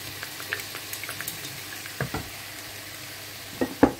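Pork bones are stir-fried in a pan with a soft, steady sizzle, while scattered clacks and scrapes from stirring come through close and fairly quiet.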